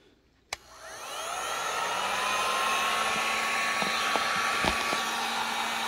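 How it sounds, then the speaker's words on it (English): A heat gun blowing hot air onto a tumbler clicks on and rises into a steady whirring blower roar with a faint whine, holding loud and even after a short quiet lead-in. "I'm gonna show you what my heat gun does with this one."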